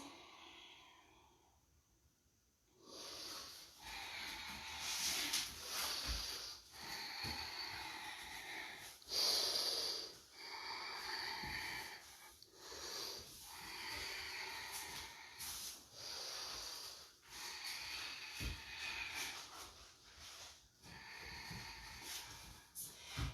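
During a yoga hip stretch, slow, deep breaths come close and clear, roughly five long airy inhale-exhale cycles with a hissy, rhythmic rise and fall after a quiet start.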